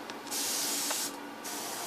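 An airbrush sprays paint in two short hissing bursts separated by a brief pause, close and clear with no speech.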